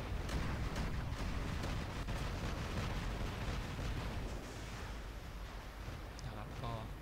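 Heavy shotgun fire in the mech combat game War Robots during new weapon testing on a server, a dense continuous barrage of blasts and rumbling explosions, loud throughout with no clear pauses.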